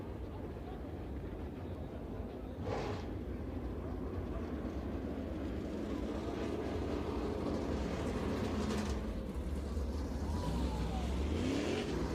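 Dirt late model race cars from the Lucas Oil Late Model Dirt Series roaring around the dirt oval at Lernerville Speedway, a steady dense engine drone with passing swells, heard from a distance amid crowd and track ambience.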